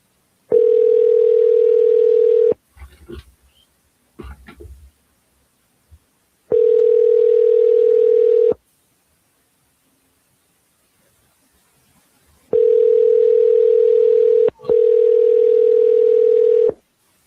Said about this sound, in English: Phone ringing and everything as well,